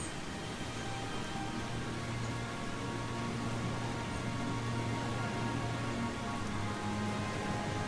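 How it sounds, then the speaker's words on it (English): Pouring rain in the video game Eastshade, a steady dense wash of drops with a low hum beneath, continuous and even throughout with no voices. "ignoring the pouring rain."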